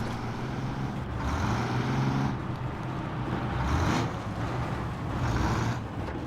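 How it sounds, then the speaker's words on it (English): GMC Brigadier truck engine in the SnowRunner video game, a deep, continuous diesel rumble with rising and falling revs, loud and close throughout. "I do love the engine in this truck. It sounds like a monster truck."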